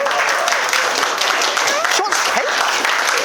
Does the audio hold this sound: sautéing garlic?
no